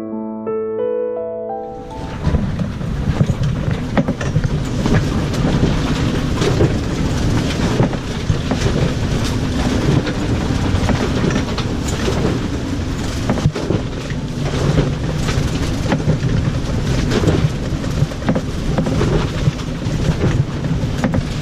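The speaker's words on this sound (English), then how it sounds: "It's 45 knots of wind right now." A 45-knot storm wind roars over a sailboat at sea, a dense, loud and continuous rushing wash with gusting surges and spray-like hiss that holds for about twenty seconds after a brief quieter opening.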